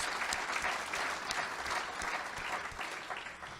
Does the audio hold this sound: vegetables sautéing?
no